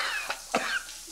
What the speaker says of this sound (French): Il a mis la douche pour masquer la toux en fait.